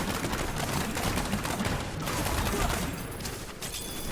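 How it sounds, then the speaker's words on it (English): Dense, continuous barrage of grenade explosions in Diablo 3 on the Agni docks, a broad rumbling roar of overlapping blasts that holds steady for several seconds with no clear gaps. "All the explosions on Agni docks from miles away."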